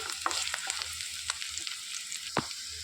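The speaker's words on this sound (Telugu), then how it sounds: "రెండు పచ్చిమిర్చి వేసుకోవాలి ఒక రెమ్మ కరివేపాకు వేసుకోవాలి వేసుకొని మొత్తం కలుపుకోవాలండి" Green chillies and a sprig of curry leaves sizzle in a hot pan for veg dum biryani, with a steady frying hiss and several sharp spatula scrapes and taps as they are stirred, close and alone.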